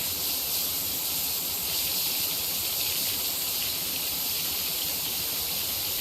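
A pressure washer in PowerWash Simulator spraying rust off a surface, a loud steady hiss of rushing water continuing unbroken and close.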